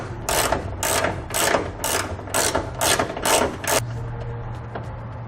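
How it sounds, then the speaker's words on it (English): A ratchet with a 21mm socket turns out a trailer hitch bolt on a 2013 Chevrolet Silverado, giving about eight loud, evenly spaced clicking bursts and then falling quiet. "We're going to remove the bottom one. And I'll do that using a 21mm socket."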